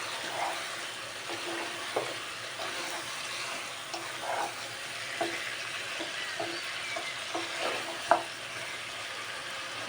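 Chicken meat frying in oil in a pan for a chicken curry, a soft steady sizzle with light intermittent stirring clicks and one sharper knock, fairly quiet and without talking.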